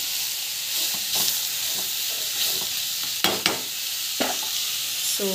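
Beetroot with chilli powder sautés in a pan, a steady hissing sizzle broken by several crisp spatula scrapes and taps against the metal, close and alone without talk.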